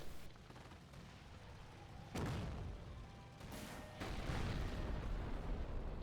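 Mortar fire in a World War II style game as the Axis side shells a triage point, with faint distant thuds and a couple of louder booming impacts over a steady rumbling battle background.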